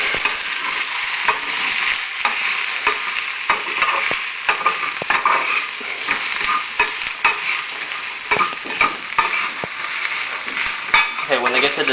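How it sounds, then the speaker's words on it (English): Onions fry in a pan under frequent stirring, a loud, close, continuous sizzle punctuated by a rapid series of scraping and tapping strokes from the utensil, with no talking. "make sure you stir up your onions every so often."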